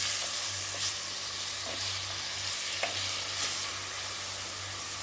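Steady sizzling and hissing of chicken frying in a pan with softened tomato, occasional soft stirring scrapes and a low background hum.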